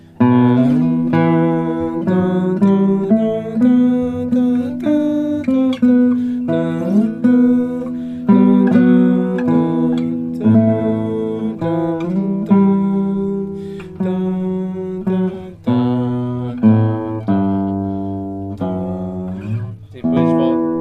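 A plucked nylon-string classical guitar plays Villa-Lobos's Prelude No. 1, a flowing melody with a bass line beneath it, the notes ringing clearly with a steady, unhurried pulse.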